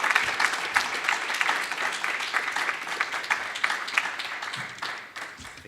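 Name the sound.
applause for keynote speaker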